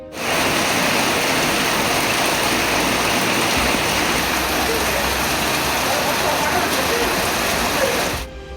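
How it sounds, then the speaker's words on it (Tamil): Heavy summer rain pours down steadily in a dense, loud hiss that fills the whole stretch, with no clear thunder clap standing out and no voices. "இடி மின்னலுடன் கூடிய கனமழை பெய்தது"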